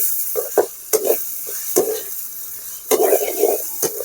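Mango, tomato and curry leaves for a chutney sauté in a pan with a steady close sizzle, broken by repeated scraping stirs of a spoon against the pan at uneven intervals.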